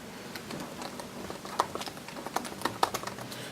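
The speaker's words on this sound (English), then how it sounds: "I'm having a hard time typing around the tripod here." Light, irregular keystrokes on a computer keyboard, typed awkwardly around a camera tripod, with a few sharper clicks clustered toward the end of the burst.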